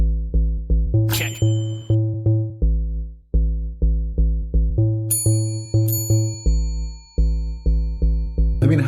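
A bell rings in quick, regular strikes, each one a clear metallic tone that decays before the next. Brighter, higher chimes cut in a few times over the steady pattern.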